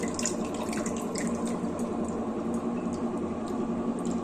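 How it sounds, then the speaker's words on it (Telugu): Running water splashes steadily as gongura leaves are rinsed in a sink, a constant close-up flow with light sloshing. "రెండోసారి గట్టిగా వాష్ చేసి ఫస్ట్ సారి కడిగేసి"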